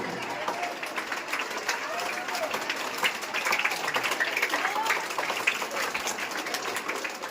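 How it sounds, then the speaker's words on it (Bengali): Audience at a school wall-magazine opening and tree-planting event breaking into scattered clapping, a busy patter of hands with voices talking over it throughout. "পেছন থেকে তো সকলে আছেন, সকলে থেকে একটু হাততালি দেবে"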